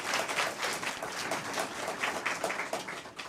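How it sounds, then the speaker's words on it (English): An audience applauds at a fire department awards and recognition ceremony, a steady, dense patter of many hands that holds at an even level throughout, with no talking over it. "We'll give him a round of applause all the same"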